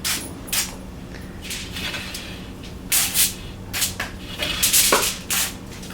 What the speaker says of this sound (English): I like the sprayer because it seems to give you a little bit more control with the coverage than drizzling the oil